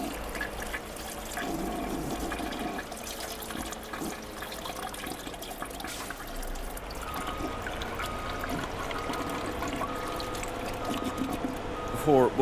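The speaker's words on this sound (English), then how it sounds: "before I was interrupted by the toilet flush there" A toilet flushes during a Farming Simulator 22 livestream, a steady rush and trickle of water running the whole time under continuous talk.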